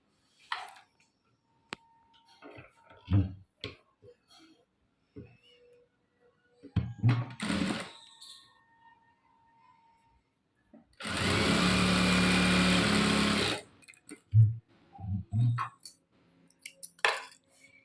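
Sewing machine stitching a 3-inch fabric strip for a sleeve, one short loud burst of steady whirring lasting about three seconds, set among scattered handling clicks and rustles.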